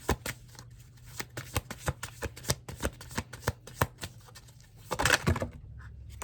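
Tarot cards are shuffled by hand in a quiet room, a series of close, crisp riffling snaps and taps in an uneven rhythm with a brief denser flurry near the end.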